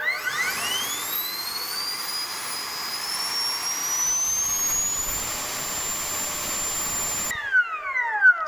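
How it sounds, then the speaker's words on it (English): A 90mm JP electric ducted fan on a thrust test stand whines steadily at high speed, its tone climbing early and then holding loud and close for about seven seconds before cutting off abruptly. "And horizontal thrust with the 90mm JP fan."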